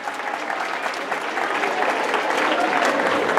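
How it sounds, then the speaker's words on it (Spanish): School audience applauding loudly for an environmental education program coordinator, dense crowd clapping that swells and grows louder over a few seconds. "Fuerte aplauso para ella"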